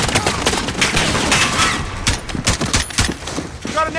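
Dense, rapid automatic gunfire from a dug-in machine-gun nest rattles throughout a Call of Duty Modern Warfare (2019) firefight on a fog-covered deck, loud and continuous with overlapping shots and faint voices underneath.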